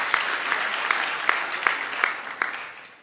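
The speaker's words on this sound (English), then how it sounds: "I believe that deserves an applause" Audience applause at a Gambian technical institute's July 2022 graduation ceremony, a steady wash of many hands clapping with a few sharper claps standing out, moderately loud and alone without talk.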